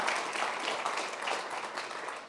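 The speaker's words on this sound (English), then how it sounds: "can you give me a clap?" An audience at a presentation claps in a steady, moderately loud burst of many hands, holding evenly and tapering slightly at the close.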